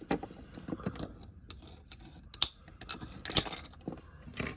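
Small plastic roof piece of a 1/32 scale Ford 10 Series tractor model being pried and clicked off, a scatter of light sharp plastic ticks and snaps, close and fairly quiet with a couple of crisper clicks.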